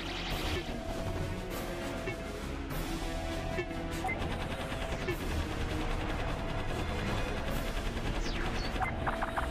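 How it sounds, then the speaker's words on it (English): Rapid, continuous blaster fire from the green gun in the arcade shooter Chicken Invaders 5 chatters densely throughout, layered with crunching impacts, bright pickup chimes and busy game sounds, fairly quiet overall. "Finally got the green gun again."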